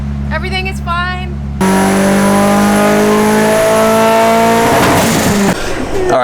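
A boosted car engine on a dyno during a warm-up pull at about 13 PSI, with a short idle before it rises into a loud, sustained climbing rev, then drops back at the end; a voice is briefly audible near the start.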